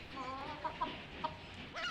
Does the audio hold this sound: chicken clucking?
yes